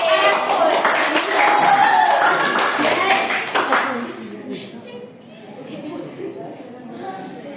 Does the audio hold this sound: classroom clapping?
yes